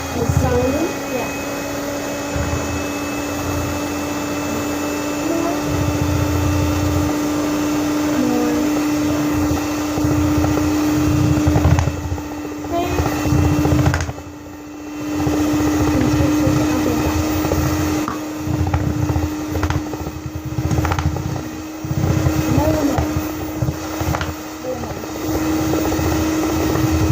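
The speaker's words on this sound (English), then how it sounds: "Okay, so let's turn our mixer back on." An electric mixer beats lemon zest buttercream frosting as powdered sugar is added. Its motor hums and whirs loud and steady throughout, with voices talking over it.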